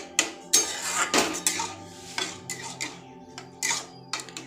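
A spoon scrapes and clinks against a pan as semolina pilaf is stirred over a low gas flame, with sharp metallic knocks at irregular intervals and no voices.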